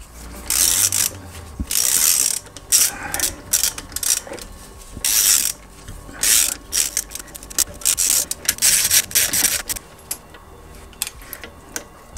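Ratchet tightening a brake caliper bolt on a Tesla Model 3 Performance during a DIY brake service, heard as repeated bursts of close, rasping clicks with short pauses between them, and no talking.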